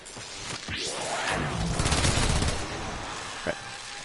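Rapid gunfire from Mesa's Shooting Gallery ability in the video game Warframe, a dense rattling burst of shots that swells through the middle and then tapers off. A single sharp crack follows near the end.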